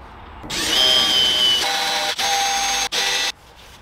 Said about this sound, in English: pre-drill the holes,